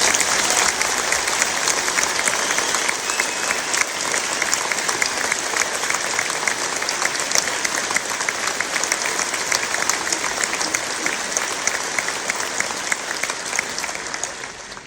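A concert audience at an evening of film music applauds loudly and steadily for the full stretch, a dense wash of clapping from a large hall crowd with no voices over it.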